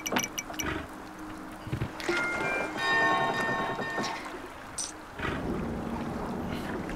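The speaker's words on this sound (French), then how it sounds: "Vas-y, lance la cloche." A bell rings in the video game Kingdom Two Crowns, a resonant metallic tone lingering for a couple of seconds amid wind-like ambience, water sounds and scattered game effects.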